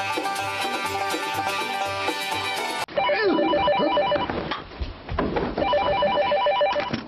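Telephone ringing with a repeating electronic ring pattern, loud and close, over a music-filled background with a sharp cut partway through; no talk.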